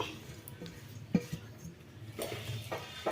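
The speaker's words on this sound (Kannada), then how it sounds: "ಇದನ್ನೆಲ್ಲ ಚೆಂದಾಗಿ ಫಸ್ಟ್ ಕಲಿಸ್ಕೊಬಿಡ್ತೀನಿ" Baby corn, onion, green chilli, coriander and curry leaves being mixed together by hand in a bowl, with faint soft rustles and a few light clinks, quiet and close, no talking.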